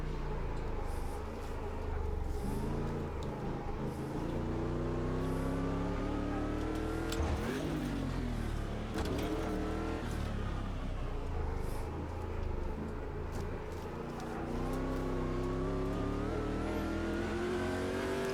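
Stadium Super Truck engine in the racing game Automobilista 2 at Long Beach, roaring continuously through a quick lap with rising and falling revs as it shifts and accelerates, close and loud throughout with no talk.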